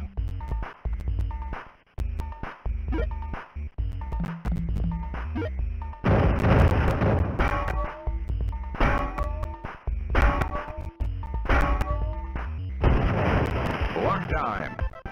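Repeated booming cannon blasts and crashes in the video game Reset Generation, loud bursts clustering in the second half over continuous low rumble.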